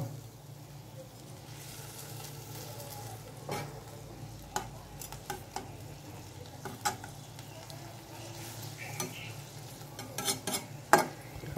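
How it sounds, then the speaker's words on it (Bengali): Fish and eggplant frying in a cooked spice paste, a soft continuous sizzle broken by scattered stirring scrapes and light clinks of a utensil against the pan, fairly quiet throughout. "মাছ আর বেগুন দিয়ে দেওয়া হলো এটা রাত্রের জন্য"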